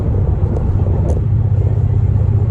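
A V8 Chevrolet Camaro idles with a steady, deep rumble, close and loud, holding an even tone throughout with no talk over it.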